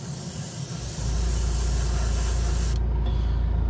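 Spray airbrush or aerosol laying a gold lateral line onto a Chad Shad KO fishing lure in threadfin style, a steady close hiss that swells louder after the first second and holds continuously.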